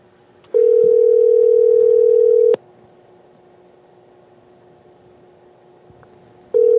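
A steady electronic phone tone sounds for two seconds, falls silent for about four seconds, then returns, a ringback pattern with a quiet hum between.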